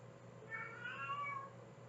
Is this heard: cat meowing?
yes